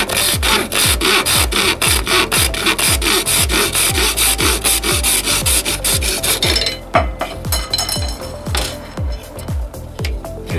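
A carbon fiber kite spar is cut with quick, regular rasping saw strokes, close and loud, that keep up for about seven seconds and then fade into a few slower scrapes.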